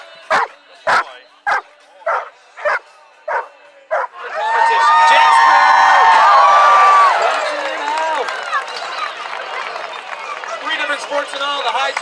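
A dog barks repeatedly in a steady rhythm at a DockDogs dock-jumping event at the Teva Mountain Games, then a loud crowd noise and a voice over a speaker take over, with yips mixed in.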